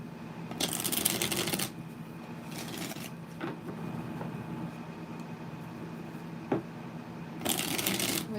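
Tarot cards are shuffled by hand in short riffling bursts, several separate bouts with quiet pauses between them, close and fairly crisp, with no talk over them.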